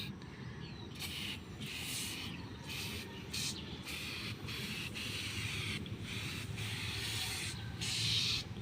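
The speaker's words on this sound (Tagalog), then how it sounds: "I-spray natin. Ito yung ating tire foam cleaner." Tire foam cleaner is sprayed onto a tire in a steady, quiet hiss with a few brief breaks, like an aerosol can pressed in short bursts.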